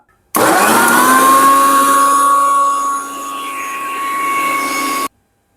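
A mixer grinder blends avocado juice with a loud, steady whine that starts abruptly, dips slightly in pitch partway through as the load changes, then cuts off sharply.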